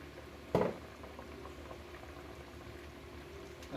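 Coconut milk simmers and bubbles in a pan for Jamaican-style salmon, a steady, faint bubbling with one brief louder clatter near the start.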